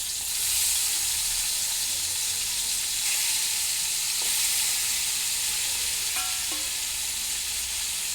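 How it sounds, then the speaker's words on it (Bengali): Chicken pieces fry in hot oil for chowmein, a steady dense sizzle and crackle heard close up throughout, with a few light clinks of stirring. "তেলটা গরম হয়ে গেছে, তারপর দেব চিকেনগুলো।"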